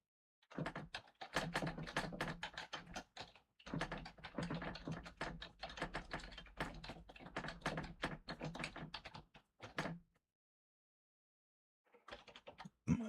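Typing on a computer keyboard, rapid clattering keystrokes in dense bursts close to the microphone, pausing briefly near four seconds and again for about two seconds before a few final taps; no talking.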